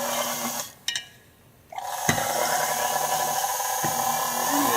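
Stick blender mixing an aromatherapy spray in water whirs after a brief start-stop, then runs steadily with a bright, noisy hum, close and fairly quiet.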